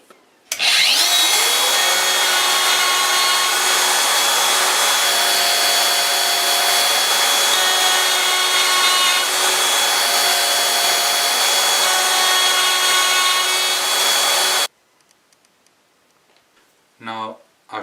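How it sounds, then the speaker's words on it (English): A router plunges repeatedly to cut connector pockets through a Lamello Cabineo template from Taiga Tools, its motor screaming at a steady high whine for about fourteen seconds before cutting off into near silence. "I'm going to start machining those connector pockets by plunging through those 3 holes here"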